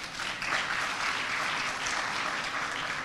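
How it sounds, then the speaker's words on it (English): Steady audience applause for a guest at a World Food Day event, a dense, even wash of many hands clapping from start to finish with no break. "Please give him a round of applause."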